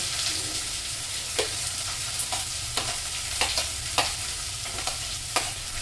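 Green chillies and chopped onions fry with reddened garlic in a pan for a dry-fish mash, giving a steady close sizzle broken by sharp scrapes of a spoon stirring at irregular intervals.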